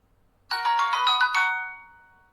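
A mobile phone ringtone sounds suddenly from near silence, a bright melodic run of tones lasting about a second before fading away.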